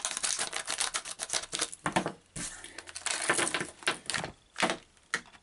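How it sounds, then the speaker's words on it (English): Close, busy crinkling and snipping of plastic packaging, a run of rapid clicky rustles with a couple of brief pauses, no voices. "I'm actually going to use scissors."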